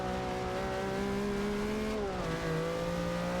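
Engine of a race car in Forza Motorsport 6 on a wet track drones steadily with layered harmonics, pitch dipping as it eases off and slowing, then holding; loud, close and continuous with a hint of tire noise, no talking.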